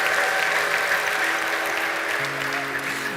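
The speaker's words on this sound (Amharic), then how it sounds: "ስለዚህ ጌታ ከፍ ያለ እልልታና ጭብጨባ እንሰጣለን።" Loud, sustained applause fills a church, a dense wash of clapping from the congregation that holds steady for several seconds, with high ululation threading through it.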